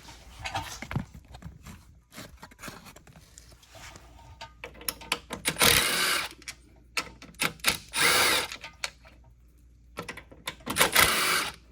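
Power tool whirring in short, intermittent bursts while bolts are removed from the air intake cover on an old Craftsman lawn mower, fairly close and loud with pauses between runs.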